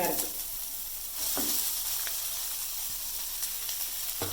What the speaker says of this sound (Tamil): தேங்காய் போட்டு கொஞ்சம் ஒரு 2 நிமிஷம் வதக்கணும்